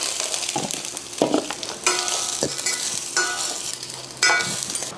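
Soaked rice is stirred into hot oil with ginger and green chilli for basanti pulao, giving a steady close sizzle broken by several scraping, clattering strokes of a spoon against the pan.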